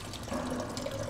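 Underwater bubbling in the sci-fi horror game SOMA, a steady watery gurgle with soft drips and tonal burbles, close and continuous through the short moment.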